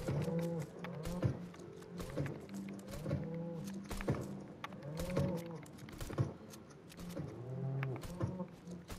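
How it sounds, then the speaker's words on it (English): Cow mooing repeatedly on a farm in Fortnite, four or five long, low lowing calls spaced a couple of seconds apart, loud and close with no talking. "Milk a cow,"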